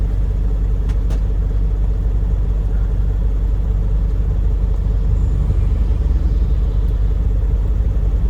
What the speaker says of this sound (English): Steel truck just went by.